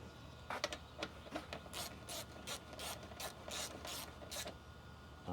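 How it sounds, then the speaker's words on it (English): Rapid ratcheting clicks from a torque wrench tightening a bolt on a Mercedes/Dodge Sprinter van, coming in repeated short bursts of crisp mechanical clatter at close range with no talking. "Then I'll get the torque wrench and torque it down."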